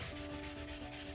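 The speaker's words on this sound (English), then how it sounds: "I'm gonna scuff sand just a little more" Sandpaper lightly scuffs a shellacked dresser surface in quick, even back-and-forth strokes, making a close, soft, rhythmic rasp with no talk and a faint steady hum behind it.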